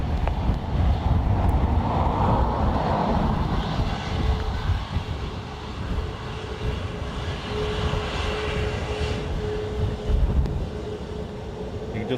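A Ryanair airliner taxis and turns at Dublin Airport, its jet engines a continuous broad roar with wind buffeting the microphone, swelling early then settling into a steady drone with a faint whining tone.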